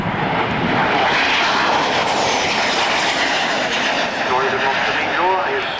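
A Douglas propeller airliner flies past at the Middle Wallop airshow, its engines a loud, steady drone that holds throughout while a commentator talks over the PA.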